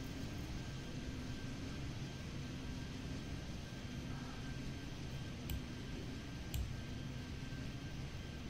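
Airplanes in the video game Airport Madness 3D give off a faint, steady broadband engine drone that holds evenly throughout, with a couple of soft clicks near the end.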